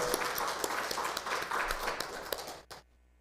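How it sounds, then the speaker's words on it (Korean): A brief burst of applause from a church congregation during a Wednesday service, clapping steadily for a couple of seconds before fading out. "다시 한번 큰 박수 해주시기 바랍니다"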